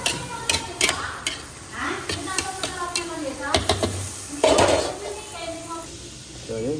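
Bihon guisado rice noodles stirred in a pan, with repeated metallic clanks and scrapes of a utensil against the pan over a soft sizzle, while a person talks throughout.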